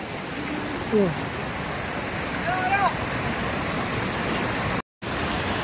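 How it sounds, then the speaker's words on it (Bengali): Waterfall in the Rongo river valley near Kalimpong, a constant broad rushing roar of falling water, with faint brief voices and a short dropout near the end. "একদম উপর থেকে জল আসতেছে।"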